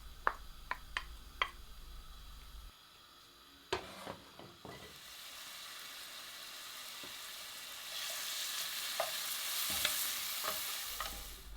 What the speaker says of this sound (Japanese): そこにブルノワーズの生ハムとローリを入れてゆっくり炒め出します。